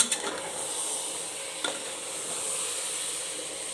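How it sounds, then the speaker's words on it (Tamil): Onion tomato masala in oil inside a pressure cooker, giving a faint continuous sizzle with a couple of light spoon clicks near the start. "எண்ணெயோட அப்படியே எடுத்து கொட்டிடுங்க அதில் கொட்டிட்டு நல்லா ஒரு கிளறி கிளறி கொடுத்துட்டு"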